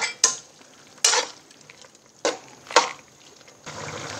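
Pork binagoongan with green chili being stirred in a pan, giving a few separate scraping strokes in quick bursts over a faint sizzle, close and moderately loud.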